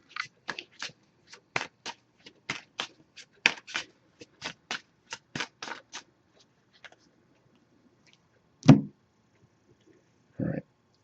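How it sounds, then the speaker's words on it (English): A deck of oracle cards is shuffled by hand in a quiet room, giving a run of about twenty crisp, evenly spaced riffling bursts, then a pause and two isolated louder taps or knocks near the end. "I'm just going to give this a few shuffles now."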